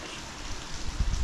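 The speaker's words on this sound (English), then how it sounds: "It's been raining all night, pouring with rain, windy, blustery." Heavy rain from an ex-tropical cyclone low pours down in a steady broadband wash, with low gusty rumbles of wind buffeting in the second half and no voices.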